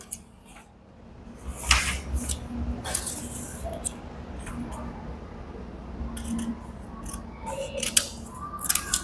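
Scissors cutting paper along a drawn rectangle, several close crisp snips in an uneven rhythm over a quiet room background, with no talking.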